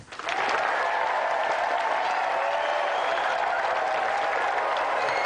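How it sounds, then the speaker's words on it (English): Steady, loud applause from a studio audience at a game show, sustained throughout after a quick swell at the start. "Round of applause for Jack."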